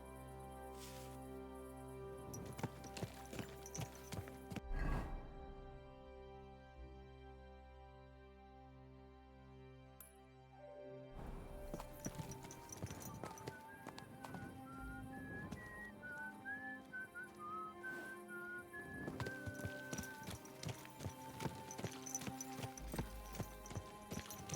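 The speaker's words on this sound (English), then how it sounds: "Easy, good horse." Horse hooves clip-clop in the medieval role-playing game Kingdom Come Deliverance 2, steady steps over a musical score with a whistled melody, after a brief quiet gap mid-way.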